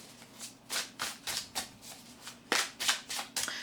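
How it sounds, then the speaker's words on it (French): Tarot cards being shuffled by hand in a quiet room, a quick run of soft papery riffles and slaps, about a dozen short bursts in uneven rhythm, close and fairly faint with no talking. "Allez, du coup je vais continuer à mélanger."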